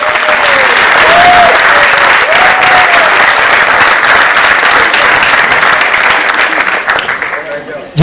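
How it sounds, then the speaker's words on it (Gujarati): Sustained loud applause from an audience at a 60th birthday celebration event, dense steady clapping filling the whole stretch, with faint voices and a brief tonal sweep mixed in, fading slightly at the end. "આજે પ્રેક્ષક માટે તાળી પડી રહી છે"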